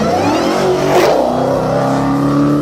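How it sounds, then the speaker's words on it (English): A 2015 Dodge Challenger Hellcat with a 6.2-liter supercharged V8 revs hard in Forza, a loud, close engine roar that rises in pitch then holds at a steady growl. "we have the 2015 Dodge Challenger Hellcat"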